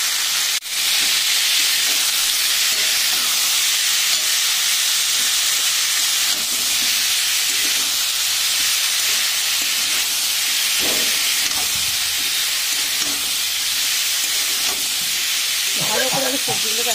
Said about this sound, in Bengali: ভালো করে আমি সবজিগুলোকে একসাথে ভেজে নেবো।